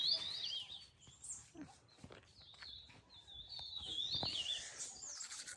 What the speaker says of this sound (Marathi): हा सकाळचं जे आवाज आहे ना चिमण्यांचा